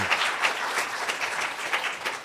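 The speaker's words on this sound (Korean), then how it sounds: "우리 한번 박수로 크게 축복하고 그런 박수로 함께 감사하겠습니다." Church congregation applauding during an Easter Sunday worship service in New Jersey: dense, steady clapping from many people fills the room, with no talk over it.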